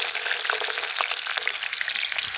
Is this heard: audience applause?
no